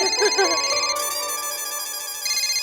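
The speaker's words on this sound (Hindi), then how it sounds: "जेठा जी का फोन।" A phone ringtone plays, a steady electronic melody with sustained tones, fairly loud and continuous, with a brief voice at the start.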